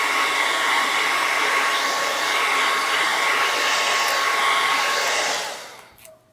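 Hair dryer blowing loud and steady to dry stencil paint on a wooden sign, then switched off, its whir fading away in the last second.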